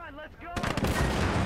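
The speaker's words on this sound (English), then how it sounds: "Cannon fire incoming!" Cannon and gunfire erupt in a war video game, a sudden loud barrage of dense, overlapping blasts that follows a short stretch of voice.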